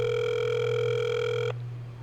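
A telephone sounds a single steady electronic ring tone that holds for about a second and a half, then cuts off, leaving a low hum behind, with no voices.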